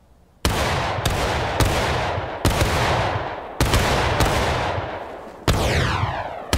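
A company of muskets fires by file in the War of Rights video game, with about eight sharp, loud reports in an uneven rolling sequence, each shot trailing off before the next.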